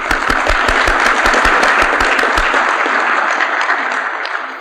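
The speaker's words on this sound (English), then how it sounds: "May we please give them a round of applause." A meeting audience gives a loud round of applause for board members at an IEEE centennial media briefing, with thick, continuous clapping from a large crowd that holds steady and then fades slightly toward the end.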